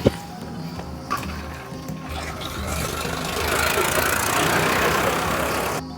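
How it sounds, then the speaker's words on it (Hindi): A tractor engine approaches from behind on an outdoor road, its steady mechanical drone growing louder and fuller over several seconds before cutting off abruptly near the end. "ट्रैक्टर आ रहा पीछे, वो भी देख लियो।"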